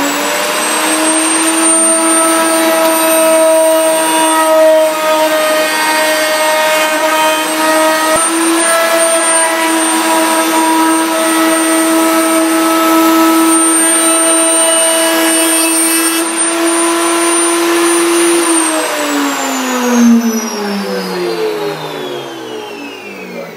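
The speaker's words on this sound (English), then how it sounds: "installed a round over bit with a bearing into my router table, removed the back fence, and I just run the edges through" Router table fitted with a bearing-guided round-over bit rounding the edges of wooden pieces, a loud steady high-pitched motor whine with shifting cutting tones as wood feeds through, winding down near the end.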